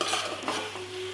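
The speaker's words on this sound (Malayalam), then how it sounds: "നമ്മളിതിലോട്ട് ചിക്കൻ ഇട്ടിട്ട് നന്നായിട്ടൊന്ന് ഇളക്കി കൊടുക്കാം." Chicken stirred in a pan with onion and ginger-garlic paste, a soft continuous scraping and rustling with a faint sizzle underneath, close and fairly quiet.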